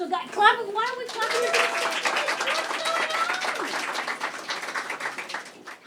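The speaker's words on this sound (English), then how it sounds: "So, guys, clap. Why don't we clap?" An audience at a Women's Day event claps in a steady, moderately loud patter, with a voice speaking over the clapping at the start.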